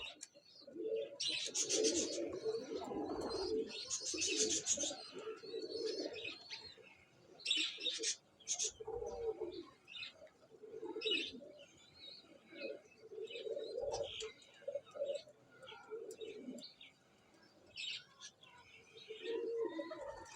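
Parwazi pigeons cooing in a loft, soft repeated throaty coos mixed with chirps and the odd wing flutter, moderately close, with faint background noise and distant voices at times.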